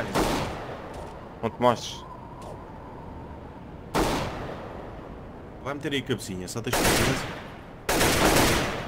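Gunfire in Counter-Strike: Global Offensive on the Nuke map during a competitive match, heard as several loud bursts of shots separated by quiet stretches, with players talking over the game audio.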